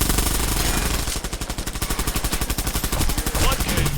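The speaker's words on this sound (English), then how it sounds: "Oh, there's somebody behind me shooting me." Rapid automatic gunfire from an attacker behind the player in the online shooter Bullet Run, loud, close bursts of fast, evenly spaced shots after a short lead-in of dense battle noise.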